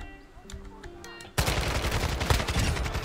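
Gunfire in the video game Call of Duty DMZ bursts in suddenly after a quieter stretch, then keeps going as dense, loud, rapid shots that fill the rest of the moment.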